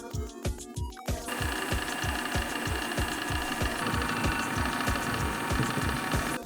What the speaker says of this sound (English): so while my milk is being heated up and frothed